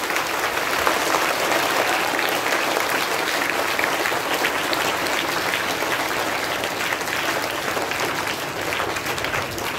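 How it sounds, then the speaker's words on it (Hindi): An audience at a Labour Day celebration gives a long burst of loud, even applause, dense clapping that holds steady for nearly ten seconds with no voices on top. "फिर एक बार जोरदार ताली बजाइए।"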